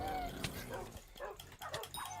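Wolves in the Hypixel Skyblock Minecraft server bark and yip in quick, overlapping bursts against busy game noise, loud and close throughout.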